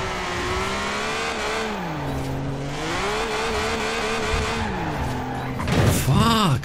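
A BMW Z4 with a six-cylinder engine drifting in the video game Forza Horizon 4: a steady, loud engine drone rises and falls in pitch, then ends in a burst of revving and tire squeal.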